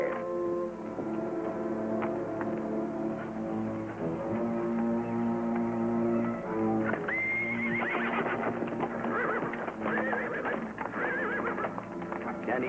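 Ponies neigh and whinny repeatedly in a canyon setting, with long tonal cries and fainter hoof clip-clops beneath, moderately close, amid a faint background hum.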